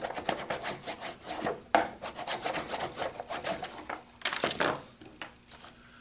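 Rubbing and rasping strokes of a tool pressed along a marked half-inch line on a wooden board for a lidded box, a run of close, uneven scraping passes with a sharper scrape near the end and no talk.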